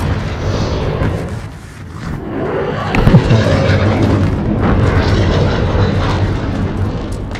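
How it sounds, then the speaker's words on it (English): An enemy cruise missile detonates in a combat video game, a deep roaring boom around the midpoint rising out of a steady aircraft-like engine drone, with rumbling that lingers loud and close afterward. "Enemy cruise missile incoming."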